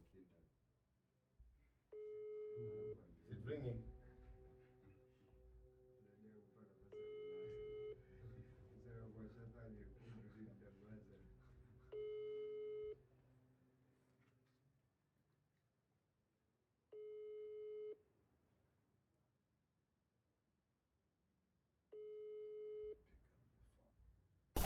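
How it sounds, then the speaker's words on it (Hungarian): Phone ringback tone on a WhatsApp call, a repeated pattern of steady beeping bursts separated by pauses, with background sounds and a voice in the first half, fairly quiet overall. "Cseng a telefon."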